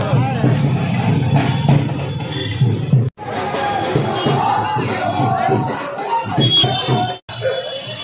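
Large crowd at a door-to-door political campaign outing, unmasked and packed together, heard as a loud, steady roar of many voices with shouting and chatter, broken by two abrupt cuts.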